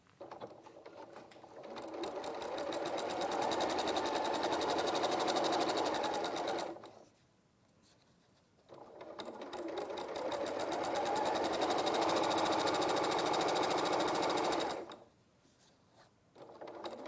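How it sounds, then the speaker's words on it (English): A sewing machine top stitching along the edge of a quilt, running in two long, steady, rapid bursts with a short pause between them, close and clear, with no talking. "And then I'm just going to top stitch down the edge just to seal that up."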